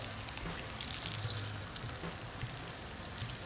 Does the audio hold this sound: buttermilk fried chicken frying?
yes